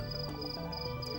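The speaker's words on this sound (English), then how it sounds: "Most of those noises you can hear are being produced by cicadas" Cicadas call at night in Africa in a dense, unbroken chorus of steady buzzing trills layered over one another, with no pauses.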